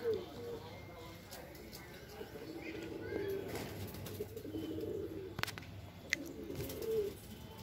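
Pigeons flutter and coo around a rooftop loft in the morning, soft calls and scattered wingbeats sounding faintly in the background while someone talks over them.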